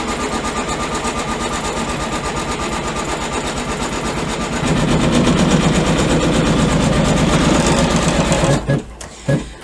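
An embroidery machine stitches an outline for backing fabric on an in-the-hoop mug rug, with loud, rapid, steady needle hammering that grows heavier midway before stopping near the end.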